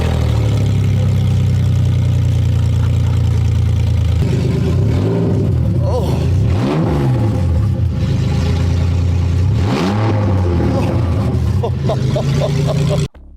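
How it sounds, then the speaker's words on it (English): A loud, raspy BMW E46 engine with decat headers and a free-flowing exhaust revs hard twice and then settles back into a deep, steady rumble. "you have to do the obligatory sound test whenever you install DCAT headers"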